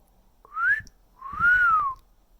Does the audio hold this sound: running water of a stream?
no